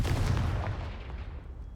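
A Confringo fire spell blast from Hogwarts Legacy, a single heavy booming burst that hits loud and low at once, then rumbles and fades away over about a second and a half with no voices.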